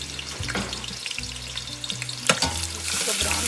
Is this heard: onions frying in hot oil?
yes